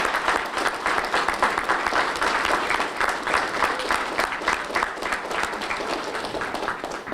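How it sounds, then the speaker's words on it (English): Audience at a university ROTC 50th anniversary celebration applauds family members of those who served, a steady, dense round of clapping sustained at even loudness throughout with no pauses. "join me in giving our family members a wonderful round of applause"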